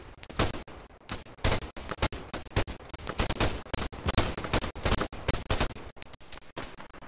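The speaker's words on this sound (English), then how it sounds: "I guess we're shooting" Rapid bursts of automatic gunfire in a shooting video game, loud and close, with sharp repeated shots in irregular clusters and brief gaps between volleys.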